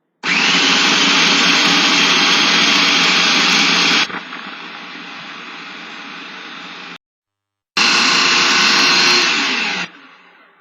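A food processor whirs loud and steady as it blends maple syrup with other ingredients for a fermented chocolate treat, dropping to a lower hum, stopping briefly, then surging again before cutting out.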